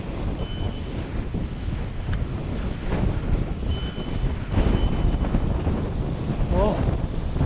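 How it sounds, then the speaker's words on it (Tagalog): Strong wind roaring and buffeting the microphone in continuous gusts, loud and close, with faint distant mechanical tones underneath. "Lakas ng hangin, grabe."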